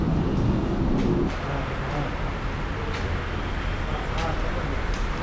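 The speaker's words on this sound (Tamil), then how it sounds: "இப்போ நான் உள்ளே என்ட்ராகும் போது ஒரு ட்ரெயின் போச்சு" A suburban train runs through a station on the Kilambakkam to Egmore line, heard as a steady, loud broadband rumble and rattle that is heaviest in the first second, then eases into a continuous roar.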